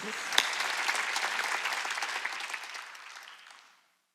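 A church congregation at a Wednesday service applauds steadily, a dense wash of clapping that holds for a few seconds and then fades out.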